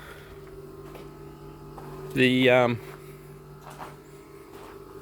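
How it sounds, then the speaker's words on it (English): An old Austech Industries compressed air dryer drawing about 650 watts runs in a workshop, giving a steady low mains-like hum with a faint fan whir throughout. A brief burst of louder voice-like sound stands out near the middle. "So that's only pretty much the air dryer running at the moment."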